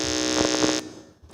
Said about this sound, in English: So I will just ask EMMANUEL Methodist to please press their buzzer.